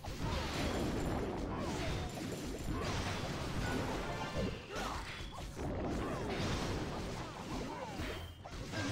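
Video game wizards blasting and demolishing a town hall, a dense continuous barrage of crashes, crumbling debris and magical impacts, loud and layered throughout without pause.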